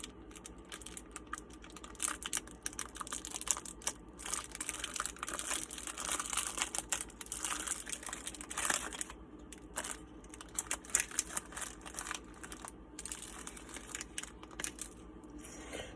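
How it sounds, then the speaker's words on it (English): Foley fire effect made by crinkling paper and slowly cranking a peppercorn grinder: a steady, dense crackle and rustle, continuous and fairly loud throughout, with no talking. "So I'll crinkle the paper and slowly crank the peppercorns."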